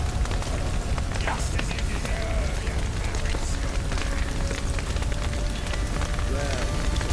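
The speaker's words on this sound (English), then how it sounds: "Looks like rain." Steady rain falls in The Witcher 3, a dense, constant hiss that runs the whole time, with faint game tones and low rumble mixed underneath.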